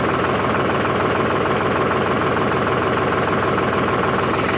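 Solis 4415 44 HP tractor engine running at a steady idle, a loud, continuous diesel chug with an even knocking rhythm and no break throughout.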